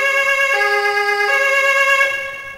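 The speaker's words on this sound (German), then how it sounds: "Dazu kam ein Rettungswagen." An ambulance siren wails loud and steady at a car accident scene, its harmonic tone stepping between pitches every second or so, then easing off slightly at the end.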